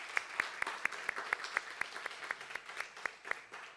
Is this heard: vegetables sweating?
no